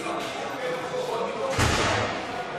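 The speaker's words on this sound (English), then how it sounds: "That noise, the banging door, the alarm bells." A heavy door bangs shut inside a UK prison, a single loud thud midway through, over a steady background murmur.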